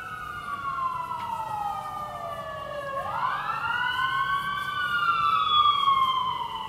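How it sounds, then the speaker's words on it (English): A wailing emergency-vehicle siren sweeps up and down in pitch, loud and fairly near, passing through a downtown street over a low rumble of traffic. "the peace is disturbed and there's sirens all the time"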